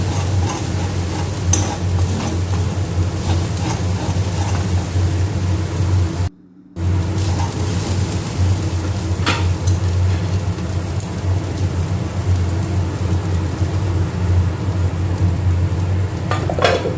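A frying Mughlai mixture with biscuit crumbs is stirred in a pan, giving a steady soft sizzle and scraping texture with occasional clicks throughout, interrupted by a brief silent gap.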